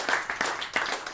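Audience applause at a live comedy stage show, rising in uneven bursts of clapping over a short stretch, fairly close and steady.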